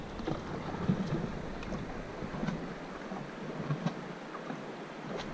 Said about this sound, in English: there's the sound of rushing water. And that is just a very small rapids